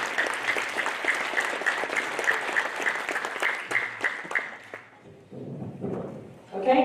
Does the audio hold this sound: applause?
yes